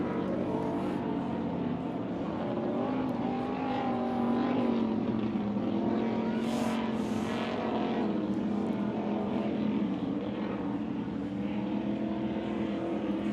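A Super V class racing powerboat engine drones steadily on the Great Lakes Grand Prix course at Michigan City, a continuous loud roar without a pause, with no talk over it.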